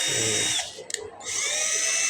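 A cordless impact drill runs with a loud, steady high whine, briefly easing off near the middle and then spinning back up, close by.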